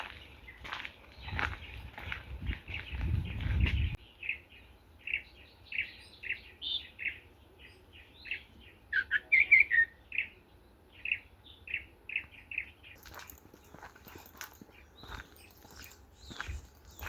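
Birds at an urban nature reserve and bird sanctuary give repeated short chirps and tweets, some near and some farther off, with a few soft rustles and no talking.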